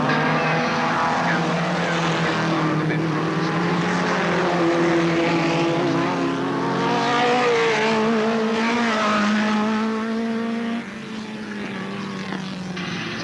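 Supermods race cars lapping at Alwalton Raceway in 1983, a loud sustained roar of several engines with rising and falling tones as cars pass and overlap, heard close and continuous throughout.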